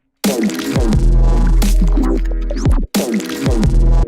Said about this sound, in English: There's some, like, reverse reverb swells.